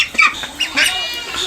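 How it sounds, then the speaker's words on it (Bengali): A Pekin Star 13 duck gives a few close, loud, raspy quacks in quick succession, with a short pause between calls. "এই দেখেন পরিপূর্ণ হাঁসের ডাকও ফুটে গেছে।"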